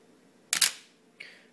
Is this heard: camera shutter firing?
yes